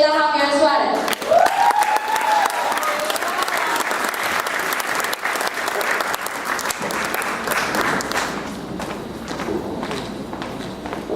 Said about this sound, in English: Let's please give a round of applause to Sheila Javier Suarez.